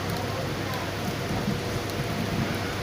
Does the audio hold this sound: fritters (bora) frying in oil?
no